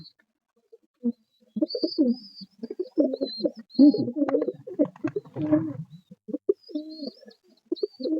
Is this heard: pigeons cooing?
yes